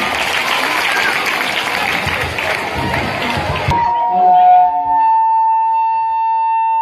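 An audience at a school women empowerment stage programme claps loudly and densely for about four seconds, then the applause cuts off and a sustained electronic tone follows.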